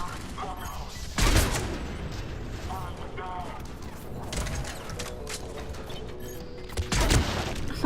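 Gunfire in the video game Mass Effect 3, with sharp shot bursts and mechanical clanks over a busy game soundscape, louder reports near the start and end, and voices talking underneath.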